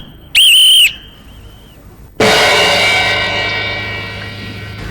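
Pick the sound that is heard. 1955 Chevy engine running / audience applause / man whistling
man whistling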